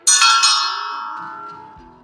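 A single bright bell is struck once, ringing out loud and clear before its metallic tone slowly decays over about two seconds with no talking.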